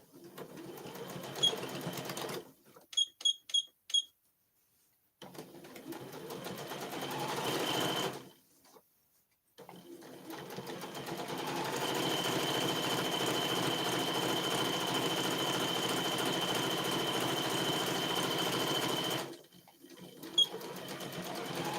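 A sewing machine stitching bowl cozies runs in short stuttering bursts, stops, then hums through a long, steady, close run before halting and starting again.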